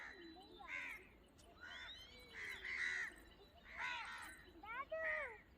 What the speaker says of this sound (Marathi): ते बघा कावळे काव काव काव करते बघा